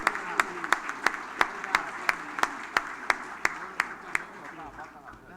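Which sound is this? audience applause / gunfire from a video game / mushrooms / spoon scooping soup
audience applause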